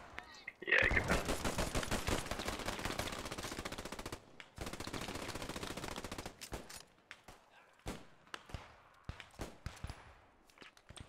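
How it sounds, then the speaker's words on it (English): Rapid bursts of machine gun fire in the WWII shooter Post Scriptum, dense and loud at first, then thinning into scattered, sharper single shots and short volleys, with faint voices in the background. "A lot of shooting going on."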